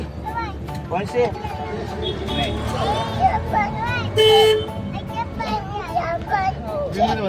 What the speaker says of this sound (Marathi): ए हॉर्न वाजते